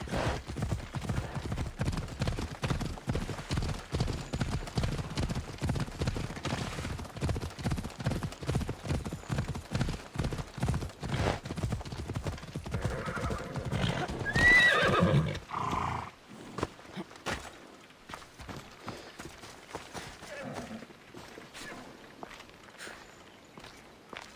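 Horse galloping under a rider in the video game Assassin's Creed Odyssey. Fast, steady hoofbeats pound close and loud for about fifteen seconds, a whinny rises near the end, and then slower, quieter hoof steps follow.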